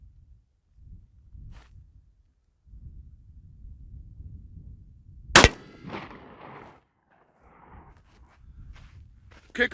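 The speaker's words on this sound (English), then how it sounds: "So I'm going to shoot buckshot." A single-shot break-action shotgun loaded with buckshot fires one sharp, loud blast midway, with a brief echoing tail, preceded by low handling noise and quiet rustling.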